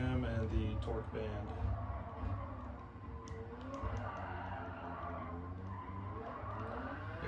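A car with a swapped-in engine breaks its tires loose, and a sustained skidding squeal rides over a loud, steady engine roar for the whole stretch, up close.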